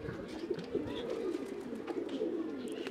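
Pigeons cooing in low, throaty murmurs, steady and close, with faint background noise and no clear speech.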